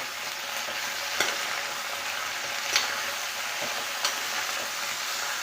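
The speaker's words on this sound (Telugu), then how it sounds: "ఇది యాడ్ చేసుకొని మొత్తం బాగా కలుపుకొని" Bottle gourd pieces with tamarind, cumin and spices are stirred in hot oil to a soft, constant sizzle. A few gentle clinks of the spoon against the pan stand out, and no voices are heard.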